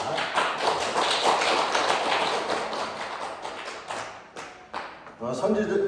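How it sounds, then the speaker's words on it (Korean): Church congregation clapping together in praise of God during a Sunday service, a dense sustained round of applause that thins and fades toward the end. "한 해 동안 우리를 인도해 주시고 지켜주시는 하나님께는 영광의 박수를 올려드리겠습니다"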